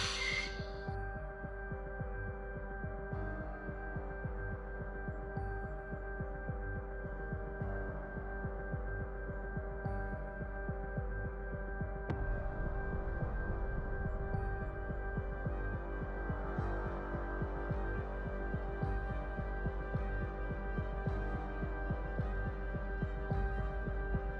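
A Dremel rotary tool runs steadily on a Kenner Imperial Transport toy being converted into a 28mm mobile fortress, giving a continuous humming, throbbing motor drone close by for the whole stretch, with no talking.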